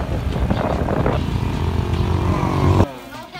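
A motorcycle rides through mountains in complete darkness on a Bali trip, its steady engine drone loud and close for most of the clip before cutting off abruptly near the end.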